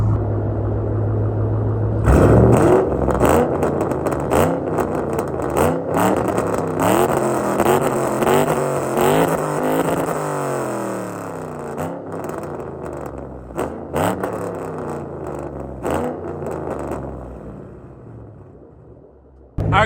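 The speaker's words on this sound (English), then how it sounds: "Alright guys, you can hear the exhaust sound." A deep, throaty V8 exhaust on a 3-valve S197 Ford Mustang revs hard, rumbling loudly with rising and falling throttle blips, then settles toward idle.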